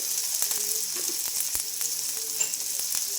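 Green chillies, tomato and lentils sizzle steadily in a hot pan, a loud continuous frying hiss with occasional soft clicks of stirring and no talk.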